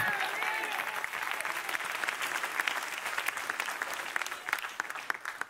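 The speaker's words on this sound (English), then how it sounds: "Your clapping says you doubt it." A congregation at a prophetic church service claps steadily, a dense, fairly loud burst of many hands sustained throughout, with a voice faintly heard at the start.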